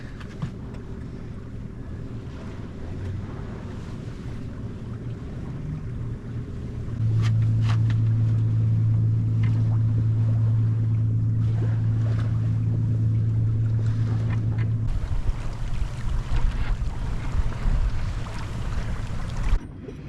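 A sailboat under sail in the Solent: continuous rushing wind and water noise around the hull, with a steady low hum that swells in the middle and buffeting gusts toward the end.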